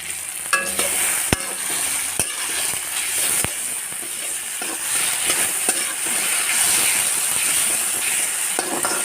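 Squeezed grated coconut fries in a pan with a constant sizzle, punctuated by sharp scrapes and clicks as it is stirred.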